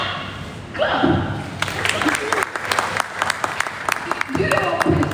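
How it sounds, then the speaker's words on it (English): Applause from an audience at a university alumni homecoming event, a steady patter of many hands clapping for several seconds with a few louder thumps, heard fairly close in a large room. "Yeah, clap."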